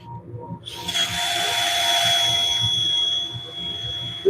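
Sandpaper of 60 grit rubs against a spinning wooden winged bowl on a woodturning lathe, a steady broadband hiss with a whining motor tone running continuously for several seconds over a low rumble.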